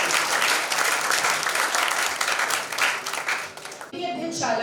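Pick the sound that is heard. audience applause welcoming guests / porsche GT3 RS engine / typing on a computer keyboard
audience applause welcoming guests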